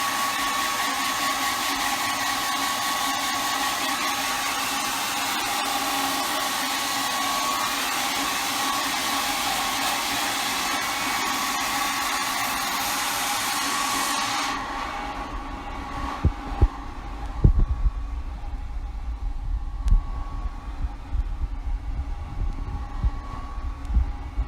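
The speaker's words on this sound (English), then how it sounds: "So I'm going to use my hair dryer." A hair dryer blows steadily and loudly for about fifteen seconds while drying a DIY two-tier tray craft project, then shuts off, leaving quiet handling sounds and light knocks.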